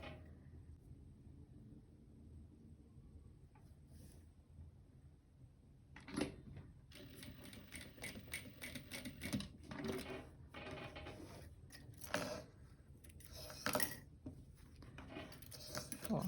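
A sewing machine stitches fabric dividers into a pencil case, starting with a quiet, faint hum, then bursts of rapid mechanical clatter and whirring in uneven runs, with small clicks and handling sounds between them.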